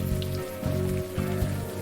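Rain in the video game Unavowed, a steady patter on a surface with a faint rhythmic pulsing and a tonal hum underneath, no voices during the short stretch.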